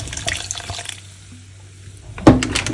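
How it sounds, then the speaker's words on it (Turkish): Soda water pours and splashes into a bowl for a squid marinade, a soft watery trickle that fades into near quiet before a sharper, louder splash of liquid near the end. "Şimdi kabımızın içine biraz adet soda"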